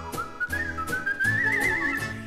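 A clear, melodic whistle glides upward in a short tune over a brief musical backing, close and fairly loud, from a 1968 song.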